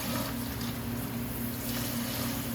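Tap water runs steadily over celery stalks being rinsed for potato salad, a continuous close splashing hiss with a faint low hum beneath.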